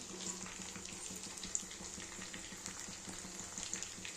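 Chicken pakora frying in oil over a high flame, a steady, faint hiss and sizzle with soft crackles and an occasional small pop, no voices.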